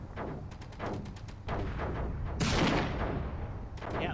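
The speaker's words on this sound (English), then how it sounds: "It's starting to open fire with its tank turrets" Tank turrets on a Sandstorm ship firing in a Star Trek space battle game, a run of sharp rapid blasts followed by a louder sustained burst, then more shots, loud and close with no talk.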